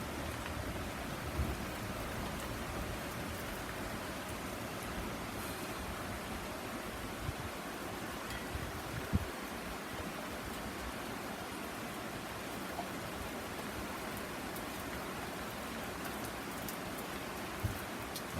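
Steady heavy rain pours down during a thunderstorm with tornado warnings, a dense continuous hiss of drops on surfaces, with a few louder drips and no voices.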